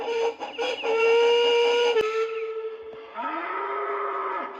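A loud, drawn-out bull moo, rising and sustained over several seconds, with a short sharp click partway through.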